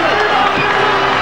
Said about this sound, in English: Crowd right behind the home team.